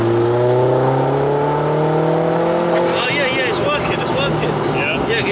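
Turbocharged 1.8T 20v VW Polo 6N2 at full throttle on a mapping day, engine note climbing steadily in pitch under loud continuous road and wind noise, with hissy boost sounds joining later.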